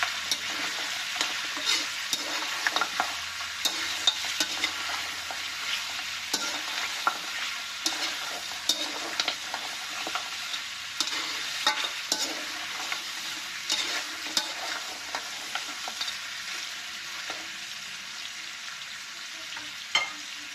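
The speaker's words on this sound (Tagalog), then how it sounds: "I-brown lang po natin ng konti pag na na po natin siya ng konti" Beef and pork browning in a pan for paksiw na lechon sizzle loudly and steadily, with frequent scraping and stirring clatter from a utensil throughout.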